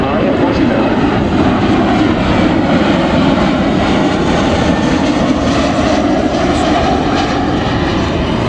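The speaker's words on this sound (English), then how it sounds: "the Boeing Poseidon MRA-1 from number 120 Squadron at RAF Rotterdam" A Boeing Poseidon MRA1 maritime patrol jet from 120 Squadron flies past at an air display, its loud sustained roar filling the scene with a steady broadband rumble and no clear rise or fall.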